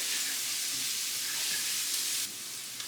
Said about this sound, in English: As soon as that garlic hits that pan, it smells good already.